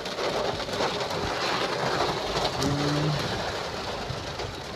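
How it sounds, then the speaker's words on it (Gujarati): Heavy rain pours steadily during an off-road drive, a loud continuous wash of noise, with a pigeon cooing briefly partway through. "વરસાદ ફૂલ ચાલુ છે"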